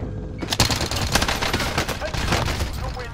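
Sustained gunfire in a squad battle-royale video game, a dense, continuous burst of rapid shots filling the whole stretch at close range, with faint voices underneath.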